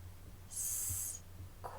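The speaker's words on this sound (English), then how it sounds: "I can hear the hawk squawking" A hawk gives one short, high, thin screech that rises out of quiet background hum and stops after about half a second.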